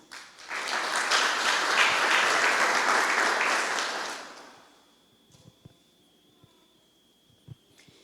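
Church congregation clapping loudly and steadily for about four seconds, then fading out to near silence with a few faint scattered claps and small bumps.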